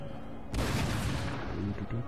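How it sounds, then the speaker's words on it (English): In the game Total War: Empire, cannons boom during a fort battle, with a sudden loud blast that leaves a rumbling, crackling tail of gunfire. "Cannons are blasting away."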